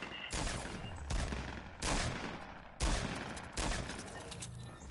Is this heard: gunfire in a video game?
yes